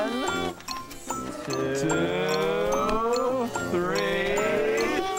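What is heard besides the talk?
sheep bleating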